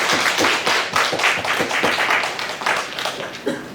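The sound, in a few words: congregation clapping in welcome at a church service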